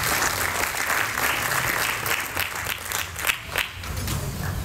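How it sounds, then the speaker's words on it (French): Steady audience applause fills the room at a startup pitch day, a dense wash of many hands clapping at constant loudness with a few sharper claps standing out near the end. "Merci de l'applaudir"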